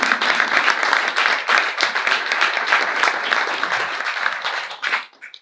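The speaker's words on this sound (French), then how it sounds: "est-ce que vous voulez bien applaudir nos 5 intervenants" An audience applauds five speakers at a morning conference on digital technology and sobriety in building, with dense, steady clapping that carries on for about five seconds before fading out.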